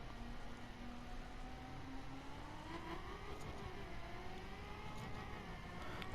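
A Ferrari sports car in The Crew accelerates, its engine note rising steadily in pitch over a constant road roar, the sound unbroken and close throughout.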